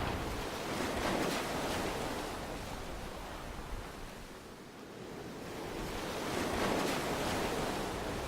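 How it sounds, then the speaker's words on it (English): Steady wash of waves and surf along the Sausalito waterfront, swelling and easing over several seconds with wind noise and no talk. "enjoy the sights and the sounds of the Sausalito waterfront"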